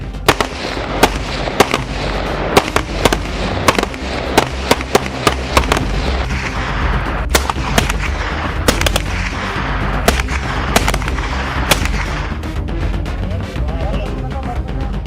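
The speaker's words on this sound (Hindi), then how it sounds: "यहाँ पर लाइव राउंड की फायरिंग प्रैक्टिस चल रही" Live-round rifle fire at an Indian Army firing practice range, a long run of sharp cracking shots in irregular bursts and single reports, loud and close with some echo, no talk.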